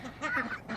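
Ducks quack from inside a split poultry run attached to a hen house, several short nasal calls in quick succession, fairly close and steady.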